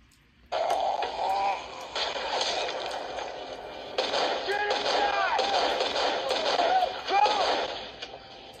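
Gunfire from a Walking Dead episode: several sharp bursts of shots under tense voices, some loud and close, scattered across the clip.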